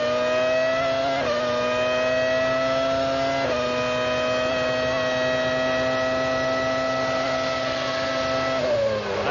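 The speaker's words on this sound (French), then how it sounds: "Écoutez le moteur Mercedes dans la McLaren du leader, Hakkinen." Mercedes V10 engine in the race-leading McLaren Formula 1 car at the 1998 Austrian Grand Prix, a steady high-pitched scream with brief gear-change dips and resumptions, loud and close, with no talk.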